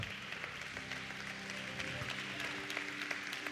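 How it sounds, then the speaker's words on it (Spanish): A church congregation applauds during a Spanish-language Christian sermon, with steady sustained clapping that fills the room at moderate level, a few brief voices mixed in beneath it. "Dale un aplauso al Rey de Reyes."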